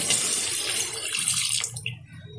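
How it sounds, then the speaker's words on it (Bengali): Water pours into a cooking pot for chicken curry, a loud close splashing gush that thins and trickles away near the end. "এখন দিয়ে দেবো পরিমাণ মতো জল।"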